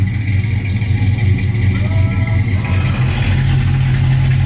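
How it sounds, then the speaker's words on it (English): A Japanese barn find car idling roughly, a loud close engine with a low uneven throb and clattery mechanical noise, the idle rising slightly toward the end. "That idle is nasty."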